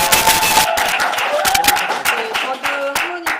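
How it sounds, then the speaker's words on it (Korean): An audience at a Nu Skin business event gives a loud, close round of applause, dense clapping that thins into separate claps near the end, with a tonal voice or music line running under it. "큰 박수."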